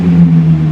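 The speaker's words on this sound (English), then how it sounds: "Some of the extras that come with the premium edition include the titanium exhaust system that sounds amazing." A Nissan GT-R premium edition with a titanium exhaust system rumbles steadily at idle, a deep, loud, even drone heard up close with no talk.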